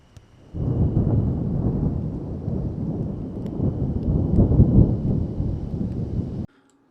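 A heavy, continuous rumble of thunder and pouring rain at night roars steadily for several seconds, then cuts off abruptly near the end.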